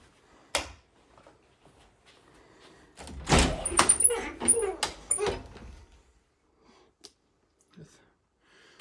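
Doors in a house creak and squeak as they swing open, with a sharp knock near the start, then a cluster of rattles, thumps and high squeals before the room falls quiet.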